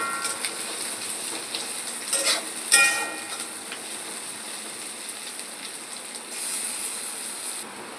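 Chopped onions fry in hot oil in a pan while cooking chicken, a steady, soft crackling hiss with brief louder sputters, close and without talk.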